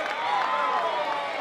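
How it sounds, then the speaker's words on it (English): Softball crowd at McCombs Field clapping and cheering on a two-strike count, a dense wash of applause and voices filling the stands at a steady moderate level. "The two-strike clap, the two-strike cheering."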